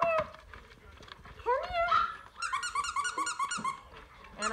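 Seven-week-old F3 mini goldendoodle puppies whimper and whine in high, wavering cries, trying to get outside, with people talking nearby.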